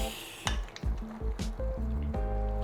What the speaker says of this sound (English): Just giving it a quick stir, making sure the pasta doesn't stick to the bottom.